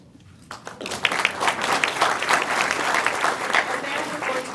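An audience at a Savannah at-large candidate forum breaks into steady applause after a candidate's closing line, dense overlapping claps filling the room, with faint voices beneath.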